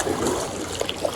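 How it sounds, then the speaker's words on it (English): Rushing river water at the brink of rapids beside a portage on the French River's Old Voyager Channel, a steady close wash and trickle with small splashes and no talking. "This portage ends right at the brink of these rapids."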